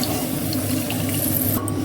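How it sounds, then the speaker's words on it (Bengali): Water is poured into a cooking pan for a Bengali raw banana kofta curry, a steady, close rushing splash that runs unbroken for under two seconds. "তাহলে জল দিয়ে দেবো।"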